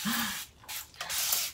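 A handheld spray bottle mists water onto hair in three short hissing bursts, close and fairly quiet, with brief pauses between them.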